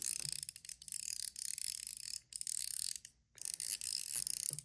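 A Metal Toyz DZ x Lautie Showhand mechanical haptic coin fidget toy gives dense, rapid ratcheting clicks close up. They run in quick bursts with two brief pauses.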